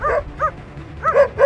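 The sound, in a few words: person imitating a dog barking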